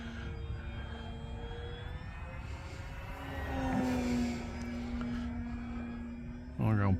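An FMS Pitts radio-controlled model biplane flies overhead on a sunny day, its small propeller engine droning steadily at a distance and swelling slightly mid-pass, with faint background noise throughout.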